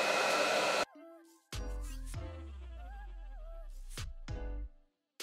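A hair dryer blows on a lace wig in short loud bursts, starting and stopping several times between quieter stretches with tonal whine and scraping sounds.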